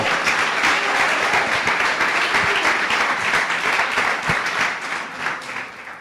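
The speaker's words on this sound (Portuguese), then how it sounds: "Uma salva de palmas ao Senhor." Church congregation applauding during a worship service, dense continuous clapping at full volume that carries through and fades slightly at the end.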